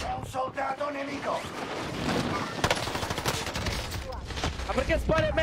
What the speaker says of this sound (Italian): Perché spari a me?